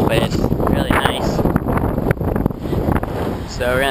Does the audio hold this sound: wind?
yes